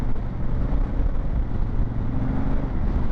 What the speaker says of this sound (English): The sound of this bike is very nice.